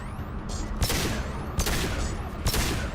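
A submachine gun in Mass Effect fires in three rapid bursts about a second apart, each a dense rattle of shots with faint background noise between them and no voice.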